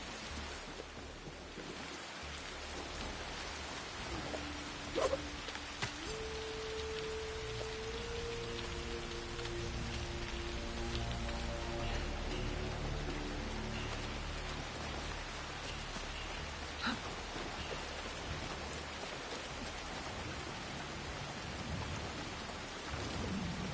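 Steady rain pours down with rumbling thunder rolling underneath in the video game Assassin's Creed: Shadows, a continuous, even downpour with faint tonal hums in the background.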